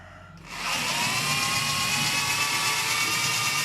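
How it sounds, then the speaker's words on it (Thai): A motorized spinner whirs up to speed with a loud, steady high-pitched drone and whine that holds constant to the end. "เปิดตัวปั่นครับอาจจะเสียงดังหน่อยนะครับผม"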